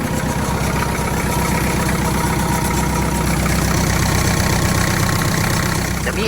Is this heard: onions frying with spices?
no